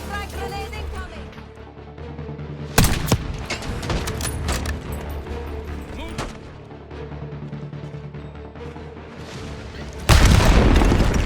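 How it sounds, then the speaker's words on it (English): A frag grenade blows up in Call of Duty Black Ops 6 amid battlefield gunfire, with sharp loud blasts near the start and a heavy boom at the end over continuous combat noise, voices briefly calling out. "Frag grenade incoming!"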